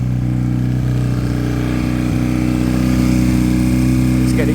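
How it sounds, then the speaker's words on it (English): A Piaggio Fly scooter engine running at raised revs with a suspected air leak, holding a steady, loud, close drone throughout. "To rev up a bit there."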